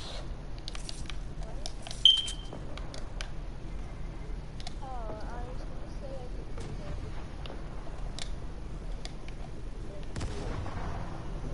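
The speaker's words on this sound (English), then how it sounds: "I hear shots." Gunfire in a video game: one sharp, louder shot, then scattered fainter distant shots and pops over a steady, low background.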